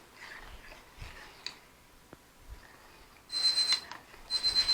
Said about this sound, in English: And my timer's gone off